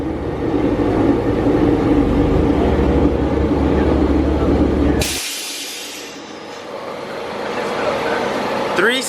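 A big-turbo Ford Focus ST running on E30 fuel roars loudly and steadily through a dyno pull, then cuts off abruptly with a sharp hissing release. A lower running sound follows.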